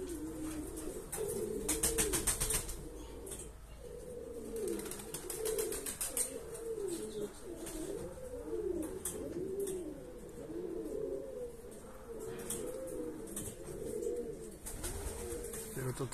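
Domestic racing pigeons, male birds among females, coo in repeated throaty bursts close by, with short flurries of wing flapping and soft background noise.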